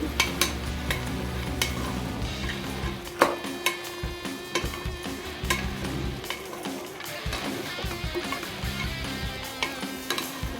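Turmeric is stirred into a curry in a sizzling pan, with repeated sharp scrapes and clinks of a spoon against the pan over a continuous frying hiss.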